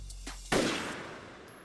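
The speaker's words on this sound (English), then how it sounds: "As soon as we clear these guys, gunshot goes off, right?" A single gunshot from the anime Great Pretender cracks out loudly and decays into a long, fading echo.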